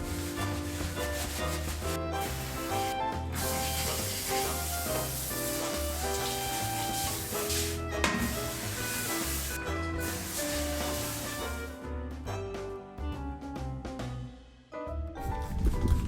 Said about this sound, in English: I'm going to use the same solution of vinegar, water and dish soap and spray it all over the bathroom floor.